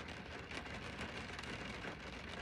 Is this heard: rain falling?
yes